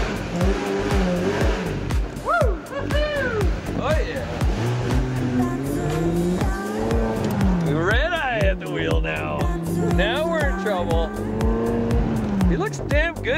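A Ferrari sports car drives with engine revving and tires squealing in bursts, loud and close throughout, while people talk over it and music-like tones run beneath.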